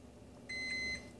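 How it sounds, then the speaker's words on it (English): A microwave oven hums quietly as it reheats ramen, then gives one half-second electronic beep at moderate level. "I might microwave it just a bit more."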